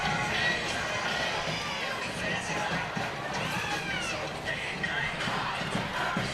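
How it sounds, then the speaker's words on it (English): Lively crowd noise from spectators at a Springville athletics game, a steady roar of cheering and chatter that holds fairly loud throughout, with voices mixed into the din. "very good crowd, making some noise too."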